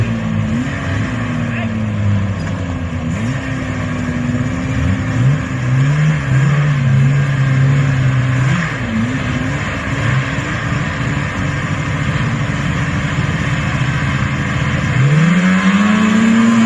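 Vintage snowmobiles grudge racing, engines revving and whining through rising and falling pitch sweeps, one machine passing loudly close by, with voices talking over the continuous roar.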